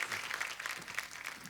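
Faint studio audience applause on The Kapil Sharma Show, a steady wash of many hands clapping heard at a distance and low in level.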